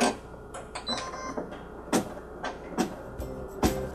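An embroidery machine stitching an applique design, giving a steady motorized whir with a series of sharp clicking needle and frame movements at close range.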